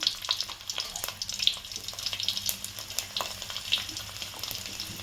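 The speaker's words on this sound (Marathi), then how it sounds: "लसूण आणि मोहरीची फोडणी देणार" Steady crackling sizzle of garlic and mustard seeds frying in hot oil, with sharp little pops scattered throughout, close and moderately loud.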